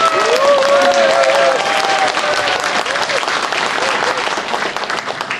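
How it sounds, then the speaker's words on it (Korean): A large audience applauds warmly in Sejong Hall at the Sejong Center in Seoul during a book launch event. The clapping is dense and sustained for several seconds, with a few voices audible briefly near the start. "뜨거운 박수 부탁드리도록 하겠습니다."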